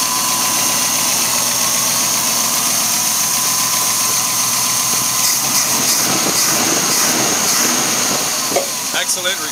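A 1971 Ford Bronco's 302 small block V8 with Mallory ignition and full length headers runs loud and close, a steady rumbling idle with someone talking over it.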